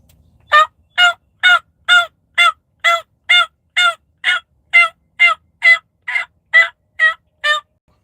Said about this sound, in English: I'm pretty sure I just heard a hen turkey respond back to me